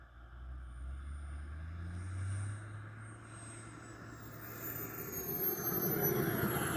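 An RC MB339 turbine jet model with a K102 turbine makes a touch and go with full flaps. A faint, distant engine rumble builds to a high turbine whine that climbs near the end.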